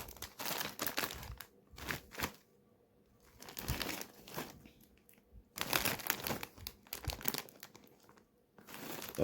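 A crinkly cheese-flavoured snack bag is pulled open close by, giving bursts of sharp crackling and rustling with quiet gaps between them and no talking.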